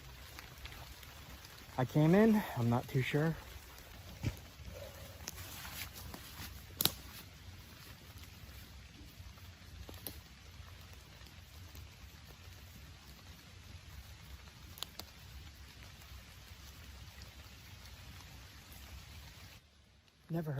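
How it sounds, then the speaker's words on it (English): Rain falls in woodland near water, a soft, steady patter and hiss throughout, with someone speaking briefly near the start. "try to get a shelter from this rain here."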